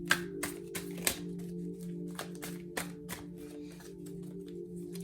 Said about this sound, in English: I will shuffle these and then pull one from the top